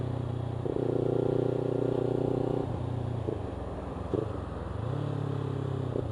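A Kawasaki Ninja 300 motorcycle rides onto a highway with a steady mid-pitched engine drone that shifts pitch a few times as it accelerates, heard from the rider's position.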